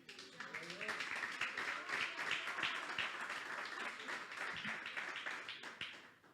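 Church congregation clapping hands together during a Spanish-language sermon, a dense sustained patter of many hands in a reverberant hall, fairly faint overall.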